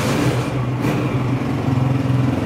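A 2022 Honda 125 motorcycle engine runs steadily close by, with a throbbing low idle that swells slightly as if lightly revved, heard alone without voices.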